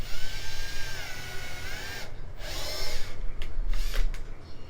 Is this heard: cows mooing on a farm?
no